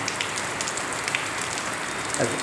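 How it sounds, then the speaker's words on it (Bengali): Heavy rain pours steadily onto surfaces, a dense, unbroken patter with scattered close drips standing out now and then. "কত বৃষ্টি আর নেবে এবছর প্রচণ্ড বৃষ্টি"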